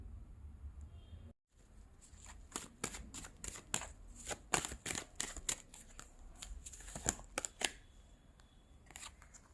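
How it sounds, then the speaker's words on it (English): Tarot cards being picked up and shuffled by hand during a reading, a close series of crisp riffling snaps and soft slaps that come in uneven bursts, with no talking. "I will pick up some cards now"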